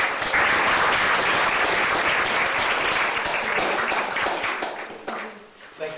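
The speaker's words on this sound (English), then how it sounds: "can you please give a warm round of applause to Mr." Warm audience applause for guest speaker Tom D'Amico at an Ottawa event, a full, sustained crowd of clapping hands that holds steady and then tapers off near the end, with some voices mixed in.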